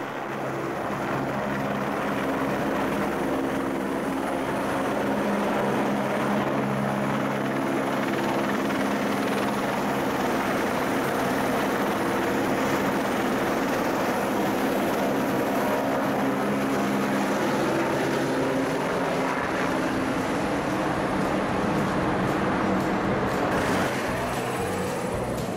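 A helicopter circling over the research ship Marion Dufresne drones continuously for a long stretch, its steady rotor thump and engine roar loud and close overhead, with no one speaking.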